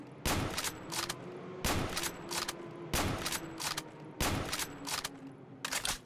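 Bursts of machine-gun fire from a combat aircraft in a jungle flight game, four or five loud rapid fusillades in a steady rhythm with short gaps between them.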